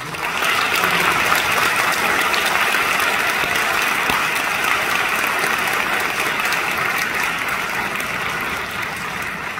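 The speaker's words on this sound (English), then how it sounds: "And so I want to give a big applause to this performance." A concert audience applauds steadily and densely for the full stretch, a loud wash of many hands clapping at once that fades slightly near the end.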